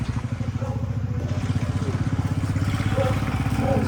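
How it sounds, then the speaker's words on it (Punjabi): A tractor's low, chugging diesel engine runs steadily close by, its rhythmic thumping continuing throughout without pause. "ਟਰੈਕਟਰ ਸਿੱਧਾ ਅੰਦਰ ਗਿਆ"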